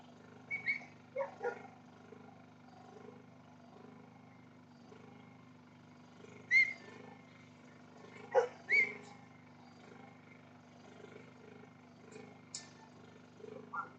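A working dog barks at weaner stock in the yards during pre-auction working trials at Holbrook, giving a handful of sharp, separate bark bursts spaced across the clip over a steady low background hum.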